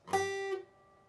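One guitar note is picked and rings briefly, then cuts off abruptly as it is muted by lifting the pinky off the fretboard, leaving near silence.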